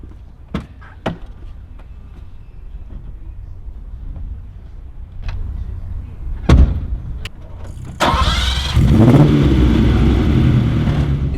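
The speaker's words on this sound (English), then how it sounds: "it is not firing on 8. There's some interesting beats going on with the cylinders" Ferrari 308 V8 running lumpy and misfiring at low revs, heard after a few clicks and a door-like thump, then starting up into a loud, uneven rumble that holds steady and close.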